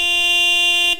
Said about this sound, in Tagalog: Galit na busina.